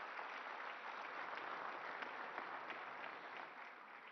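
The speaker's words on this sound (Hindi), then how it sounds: "आपकी तालियों के साथ" Sustained applause from a large audience at a Northeast investors' summit attended by the Prime Minister, a dense, steady wash of clapping that holds throughout and eases slightly at the end.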